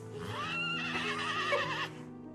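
A horse in a royal stable lets out one long, wavering neigh lasting over a second, close and fairly loud, with a faint hoof shuffle beneath it and no voices.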